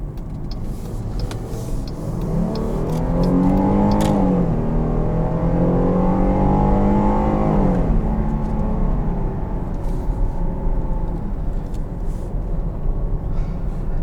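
A 2021 Jeep Grand Cherokee L Overland engine revs toward redline. A steady motor drone swells as the pitch climbs, holds high for a few seconds, then falls back to idle. It is close and fairly loud, with no talking.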